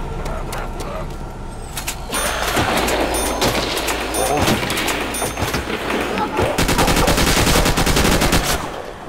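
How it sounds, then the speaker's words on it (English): An AK-74U fires in a modern-weapons mod of the video game Call of Duty: World at War: loud, dense gunshots with scattered shots early on, then a sustained rapid automatic burst near the end. "This is the AK-74U."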